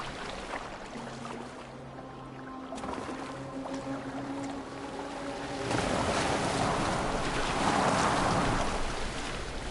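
A boat sails across open water in the Valhalla video game, with a steady rush of water and wind under low sustained musical tones. The surf swells louder and brighter in the second half.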